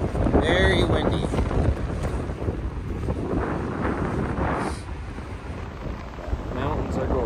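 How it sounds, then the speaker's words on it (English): Strong wind buffets the microphone near Lake Tahoe in the mountains, a steady, loud roar of gusts throughout with faint talk partly buried beneath. "Very windy."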